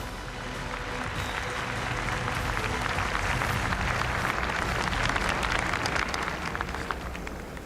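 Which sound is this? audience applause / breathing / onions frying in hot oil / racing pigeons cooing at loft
audience applause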